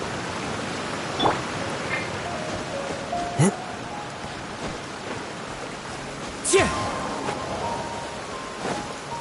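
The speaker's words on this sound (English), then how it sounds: "It's raining again?" Steady rain in the video game Genshin Impact, a continuous hiss of falling drops with occasional brief swishes and effect sounds layered on top, moderately loud and without talk.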